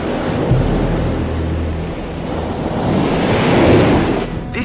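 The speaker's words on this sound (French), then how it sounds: "Les vagues puissantes arrivent violemment dans cette antichambre." Powerful sea waves surge into the chamber of a shark cave, a loud, rumbling wash of surf swelling and churning with wind-like noise, building toward a heavier surge near the end.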